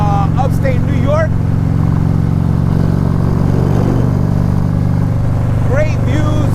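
A 2019 Harley-Davidson Street Glide CVO cruises on a highway in upstate New York with a steady, loud, low engine drone and wind rumble. Brief voice-like sounds rise above it.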